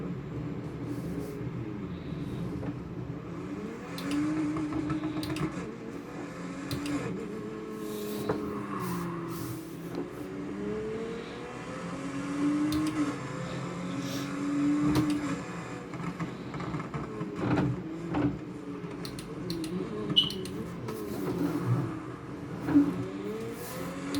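Car engine in the Need for Speed Heat racing game, a droning motor note that rises and falls with revving and gear changes, steady and moderately loud with occasional louder bursts.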